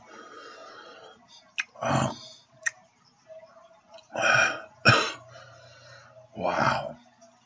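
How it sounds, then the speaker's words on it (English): A few harsh, rough coughs come in separate bursts with pauses between, close and fairly loud over a quiet background. "That shit made me cough."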